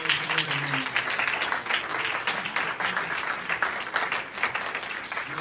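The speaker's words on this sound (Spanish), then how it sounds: "Un aplauso para el Señor" Church congregation applauding during a sermon, a steady wash of many hands clapping with faint voices mixed in, lasting throughout at moderate loudness.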